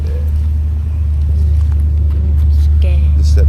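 Cars rolling around the grounds of a car show, with a deep, steady engine rumble that swells slightly toward the end.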